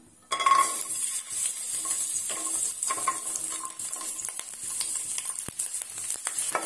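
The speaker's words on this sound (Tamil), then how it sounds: "இப்ப ஆயில் நல்லா சூடானோடனே சின்ன வெங்காயமும் பூண்டும் சேர்த்துக்கலாம்." Small onions and garlic hit hot oil in a pan and sizzle loudly and steadily, with occasional stirring clinks of a utensil against the vessel, no voices.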